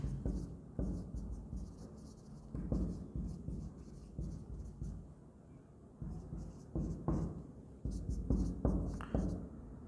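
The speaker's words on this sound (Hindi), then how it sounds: "ये थोड़ा सा ऊपर लिखते हैं इसको" A pen scratches across paper while an accounts journal entry is written by hand. Short, irregular bursts of close, soft strokes come with brief pauses between them.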